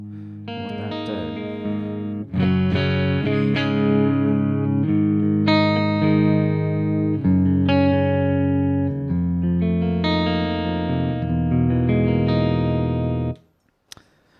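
Electric guitar through a Quad Cortex amp model with the gain opened up, played as sustained distorted chords and riffs, loud and continuous before stopping abruptly near the end.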